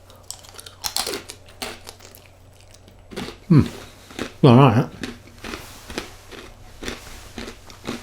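Close, crunchy chewing and biting into a giant salted pretzel, several loud crunches amid softer mouth noises, with someone speaking briefly.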